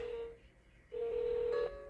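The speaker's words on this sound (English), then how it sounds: "So right when I place this phone call, my phone's going to go to a not safe network." Phone keypad dialing tones while a call is placed, two short electronic beeps separated by a pause, clear and fairly quiet.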